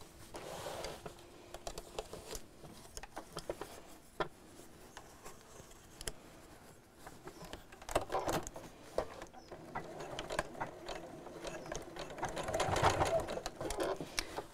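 A sewing machine sews lining over a round bamboo bag handle, a faint, uneven mechanical whir with small ticks and clicks throughout, rising slightly toward the end.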